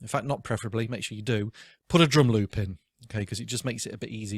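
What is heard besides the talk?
No everyday noises stand out.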